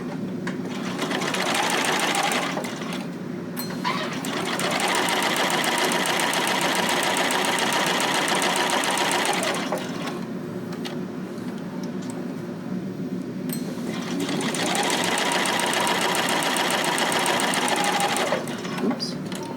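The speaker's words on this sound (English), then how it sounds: "So go ahead and use your straight stitch and a 1/4 inch seam." A sewing machine runs a straight stitch with a quarter-inch seam along garment side seams, a loud, close, steady mechanical whir in several long bursts separated by brief pauses.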